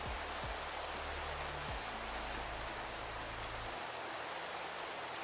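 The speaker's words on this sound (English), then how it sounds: "Oh no, it's raining." Steady Minecraft rain hisses as a constant broadband wash, loud and even throughout, with low tonal game sounds sliding underneath and no voices.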